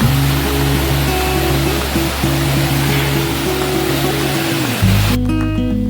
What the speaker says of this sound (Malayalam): ഒരുപാട് വെള്ളം, ഒരു വെള്ളച്ചാട്ടം എന്ന കണക്കെ ഇവിടെ ഒഴുകുന്നുണ്ട്.